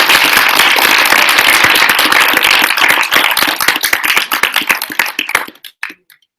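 Audience clapping at a thesis defense, loud dense applause that thins into scattered individual claps and dies away at the end.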